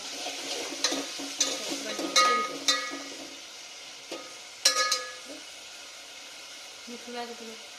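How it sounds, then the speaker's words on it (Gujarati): Sabudana khichdi cooking in a pan at home, with a soft steady sizzle broken by scattered stirring clinks and scrapes of a utensil against the pan, close and fairly quiet. "અહીંયા સાબુદાણાની ખીચડી બનાવે છે"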